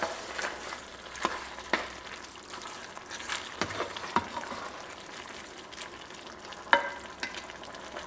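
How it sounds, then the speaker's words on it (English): Meat sauce with red peppers and Italian seasoning simmers and sizzles in a pan, a soft steady crackle broken by occasional sharp pops and spoon clicks, close by and without talk. "we're going to cook this down for about another 5 or 10 minutes"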